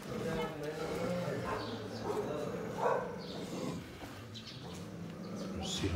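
Dogs bark and yip intermittently on a busy Kathmandu street, several short barks scattered over steady traffic and crowd noise, moderately distant, with a person talking nearby.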